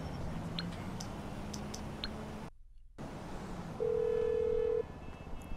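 Cellphone dialing in Grand Theft Auto V, a series of short electronic keypad tones followed by a longer sustained tone, set over faint game background sound.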